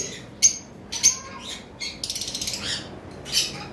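Lovebirds at a bird farm give a handful of sharp, high chirps and tweets, scattered irregularly over a faint background, with a brief rapid fluttering burst midway.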